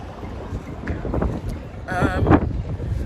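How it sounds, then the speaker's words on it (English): Steady wind buffeting the microphone with a low rumble on a street in Espargos, Sal, Cape Verde, a voice speaking briefly underneath partway through. "the weather's a bit intermittent. It's windy."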